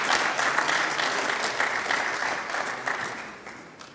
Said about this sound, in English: let's get a round of applause again to Bevel